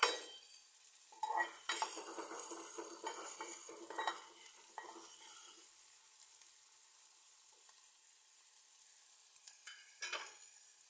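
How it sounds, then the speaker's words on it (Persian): Diced onions fry in oil in a pan, a crackling sizzle mixed with the scrape and clatter of a utensil stirring for about six seconds, then fading to a faint hiss with one more brief stir, no speech. "اول پیازها رو نگینی خرد میکنیم، بعد مقداری روغن میریزیم داخل تابه تا کامل"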